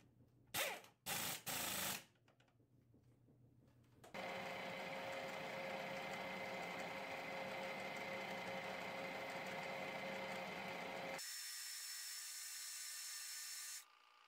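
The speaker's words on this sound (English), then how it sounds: "I drilled a 1-inch hole through my aluminum plate" A 1-inch hole being drilled through aluminum plate: a few brief bursts of a tool starting, then a loud, steady whine of cutting for about seven seconds that shifts to a thinner, higher tone before stopping.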